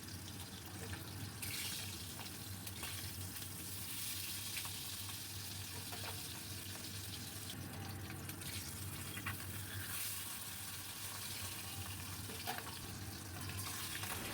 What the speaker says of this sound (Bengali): পাবদা মাছ গরম তেলের মধ্যে ছাড়লে এত ফাটে যে ঢাকা দিয়ে দিয়েই এগুলোকে ভাজতে হয়।